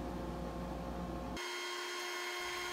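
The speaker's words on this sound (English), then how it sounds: "So since I had this on the lathe and sanding is so easy on here, I just finished up the outside right here." Wooden stool spinning on a lathe while being sanded, a steady whirring machine drone with a dense hiss that abruptly changes tone halfway through, fairly quiet, with no talk.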